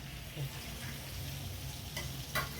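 Butter and oil heat in a pan for pav bhaji with a faint, steady sizzle throughout. A few brief clinks and scrapes of a spoon cut in near the end.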